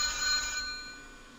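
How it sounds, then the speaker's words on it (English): A phone rings in the video game Red World, a loud, sustained electronic trill that holds for about half a second, then tails off into a fading ring. "The sound of a phone? It's right nearby."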